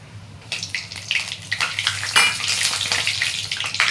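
Whole cumin seeds and bay leaves dropped into hot oil in a kadai, a sudden sizzle that continues as a loud, crackling, bubbling hiss with small pops and stirring, no talk.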